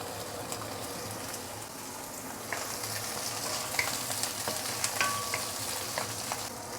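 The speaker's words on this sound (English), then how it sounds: "we are going to fry out the prawn and set it aside" Prawns frying in hot oil for Thai fried rice, a steady close sizzle and crackle with scattered pops and spatters growing busier toward the end, no talking.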